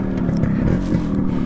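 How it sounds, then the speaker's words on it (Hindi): A Yamaha RX100 motorcycle engine fitted with an RX135 exhaust runs steadily at close range on an empty road, a continuous low rumble with a slight throb and no pauses. "गाड़ी को स्टार्ट करेंगे,"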